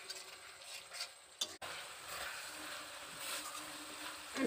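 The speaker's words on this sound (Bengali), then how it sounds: "এবার সমস্ত মশলাগুলো একসাথে কষিয়ে নিচ্ছি।" Ground cumin and coriander frying in oil and being stirred in a pan for a potato and soybean curry: a soft, steady sizzle with occasional scraping strokes, quiet and close, with no talking.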